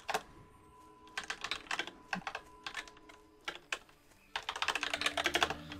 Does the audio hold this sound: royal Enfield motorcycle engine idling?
no